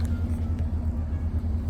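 Chevrolet Camaro ZL1 1LE rumbling as it tries to drive free after getting stuck, a low, steady, close engine drone over a brief moment.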